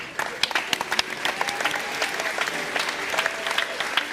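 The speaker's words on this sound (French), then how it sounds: "Est-ce qu'on peut acclamer Dieu?" A church congregation at a Saturday evening gathering claps hard, with dense, steady applause and a few scattered cheers filling the whole stretch of the sound.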